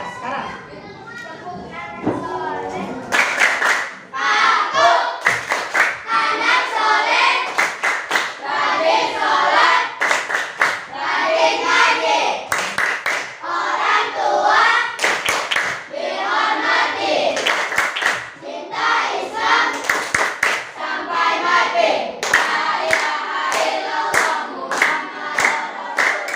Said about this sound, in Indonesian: mari kita sama-sama untuk tepuk anak soleh